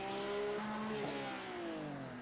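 Porsche Cup race car in a racing video game heard from on board while entering the pits, its engine tone dropping through gear changes as it slows, with loud, steady harmonic whine throughout.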